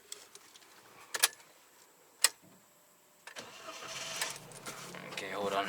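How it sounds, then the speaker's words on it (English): A 2019 Perodua Axia G spec car gives a couple of faint key and ignition clicks inside the cabin, then its small engine cranks and catches. It settles into a soft, steady idle heard from the driver's seat. "let's start the car"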